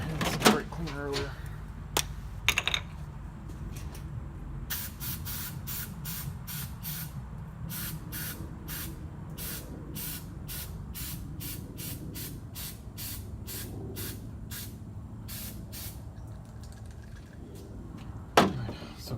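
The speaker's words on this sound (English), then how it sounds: "we get some brake cleaner. Let's spray that in." Brake cleaner sprayed into a gunky coolant cap on a 1985 Chevrolet C10, heard as a steady hiss with a long run of short, rapid spray bursts over a low background rumble.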